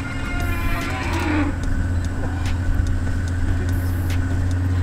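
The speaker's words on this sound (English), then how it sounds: "This is a guided safari tour with an open off-road car." An open off-road safari vehicle on a game drive in Etosha, Namibia, gives a steady, close engine rumble that runs through the whole stretch, with brief mid-range calls sounding over it.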